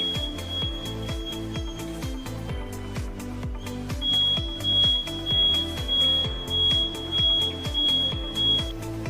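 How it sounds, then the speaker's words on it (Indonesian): A metal detector alarm, set off while testing water for heavy metals, beeps loudly in a fast, regular pulsing pattern with a steady high tone above it, sounding alone and close. "alarm berbunyi dengan keras"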